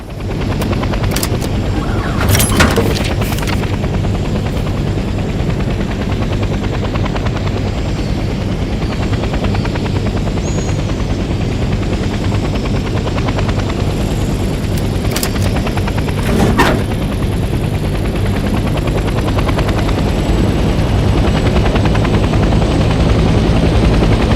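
Loud, continuous rotor thump and turbine whine of a helicopter in the video game Hell Let Loose: Vietnam, with a few sharp gunfire-like cracks early and midway.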